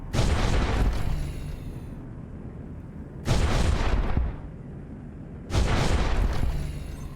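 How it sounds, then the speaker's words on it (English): Autocannon fire in the space game X4 Foundations, with three heavy, booming discharges at steady intervals, each one loud and close before a long rumbling decay. "Oh, that's the autocannon."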